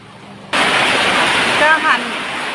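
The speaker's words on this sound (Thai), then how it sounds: "ฝนกำลังตกเลยที่บ้านสวนริมคลอ" Rain at a canal-side garden house bursts in suddenly after a quiet moment, then holds as a loud, steady wash of noise, with a brief voice-like sound near the end.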